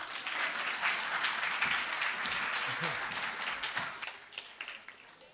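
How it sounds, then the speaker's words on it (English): An audience at the 3rd National ICT Summit 2016 applauds in a full burst of clapping that stays strong for several seconds, then thins out and tapers as a few voices come through near the end. "another round of applause for Paulus and the team"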